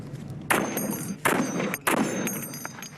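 Three loud rifle shots fired one at a time at a range, each a sharp close crack with a short ringing tail, spaced under a second apart.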